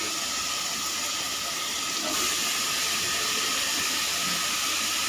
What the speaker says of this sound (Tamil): எண்ணெய் கொஞ்சம் வதக்கிட்டு நம்ம காயெல்லாம் போட்டுடலாம்.